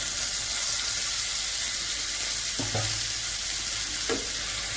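Chopped tomato dropped into hot oil for a garlic-fenugreek curry, frying with a steady, close hiss, broken by a couple of brief spoon scrapes as it is stirred.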